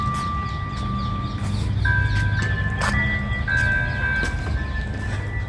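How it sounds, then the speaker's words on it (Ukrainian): Tinny ice cream truck jingle plays a repeating melody at a moderate distance on a street in Bakersfield, California, over steady street background noise with faint outdoor sounds. "А музику ви чуєте, це морозиво продає."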